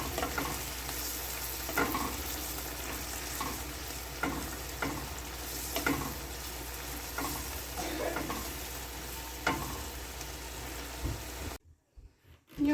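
Loud, continuous sizzling of vermicelli pasta frying in a pan, with repeated scraping and tapping from stirring, close up, cutting off abruptly near the end.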